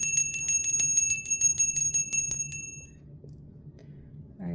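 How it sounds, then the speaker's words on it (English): A small bright bell rung rapidly in a steady run of about a dozen ringing strokes over a low background hum, then it stops and only the hum remains. "some people like the bell sound"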